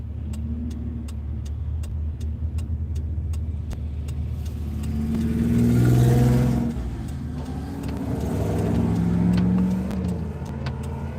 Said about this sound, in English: that motor that you hear, that motor's been like that since I bought this car